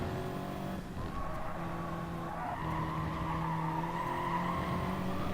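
Race car tyres skid and squeal in a long, loud slide as the car spins round on cold tyres in an FIA Manufacturer Series racing game, with the engine droning beneath.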